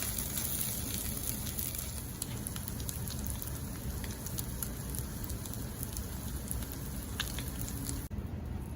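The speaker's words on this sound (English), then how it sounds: "So these crab cakes have been searing in the pan for about 3 minutes now" Crab cakes searing in a pan over medium heat give off a steady, close crackling sizzle that runs unbroken through the whole stretch, with no talking.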